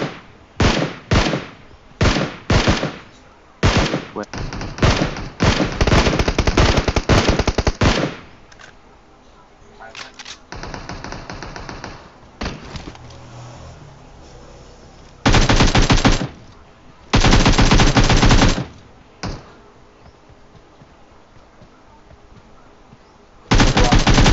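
AK rifle gunfire in the PUBG Mobile video game, loud close bursts and rapid automatic volleys broken by short gaps, with players talking between and over the shots.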